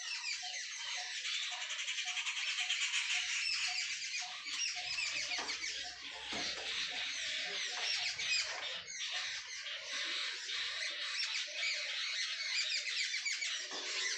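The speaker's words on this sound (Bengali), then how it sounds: "দেখো কত ধরনের পাখির ডাক, দেখো কত পাখি এসছে" Many birds of several kinds call together in a dense, continuous chorus of high squeaks and squawks that stays loud and busy from start to finish.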